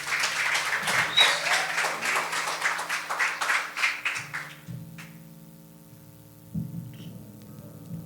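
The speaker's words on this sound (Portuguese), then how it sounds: "Por favor, uma salva de palmas para eles." A church congregation applauds the music ministry, a dense wash of clapping that fades out after a few seconds, leaving a low hum and quiet murmurs.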